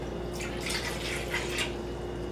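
Water from a cup being poured into a Baro Cook cooking system container outdoors, a steady close trickling splash lasting a couple of seconds over a constant low hum.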